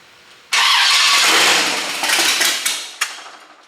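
A 350 small block V8 engine in a 1934 Ford Coupe, started for the first time, cranks loudly up close, a harsh churning burst that sputters and falters, with a sharp knock near the end.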